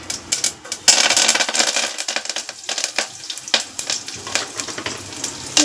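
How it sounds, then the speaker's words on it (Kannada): Cumin, mustard seeds and curry leaves crackle and sizzle in hot oil for sambar, a steady close frying hiss broken by sharp popping bursts of the seeds, with no voices. "ಎಣ್ಣೆ ಬಿಸಿ ಆಗಲಿ ನೋಡಿ ಜೀರಿಗೆ ಸಾಸಿವೆನ ಹಾಕೊಳ್ತಾ ಇದ್ದೀನಿ ಈಗ ಕರಿಬೇವು ಹಾಕ್ತಾ ಇದ್ದೀನಿ"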